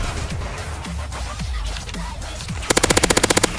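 Video game gunfire: scattered single shots at first, then a rapid automatic burst of about a dozen evenly spaced loud shots near the end.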